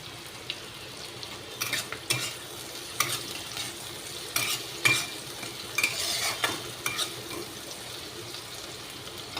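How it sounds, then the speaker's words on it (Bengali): Onion frying in oil in a pan over a low gas flame, with steady sizzling and repeated scraping stirs of a spoon or spatula, close and fairly loud, no talking. "এবার আমি পেঁয়াজ দিয়ে পেঁয়াজটাকে একটু ভাজা ভাজা করব।"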